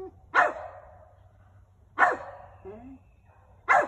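A dog gives three sharp single barks spaced evenly about a second and a half apart, close and clear in a quiet outdoor setting, with a soft whine between two of them.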